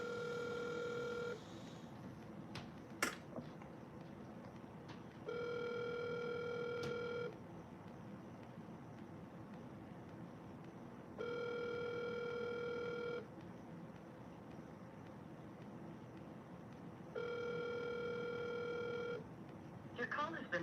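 Phone line ringing while a call to an Atlanta men's shelter is being connected: four evenly spaced two-second electronic rings, steady and clear, with a faint background hum in the gaps.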